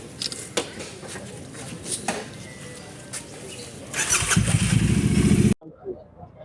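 A motorcycle set for a long ride from Junagadh to Kanyakumari starts up and runs with a loud, rough engine rumble for about a second and a half before cutting off, after scattered clicks and background voices.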